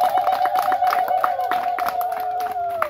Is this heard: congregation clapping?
yes